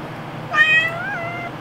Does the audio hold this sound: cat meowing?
yes